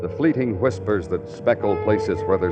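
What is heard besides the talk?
None of the usual background noises is heard.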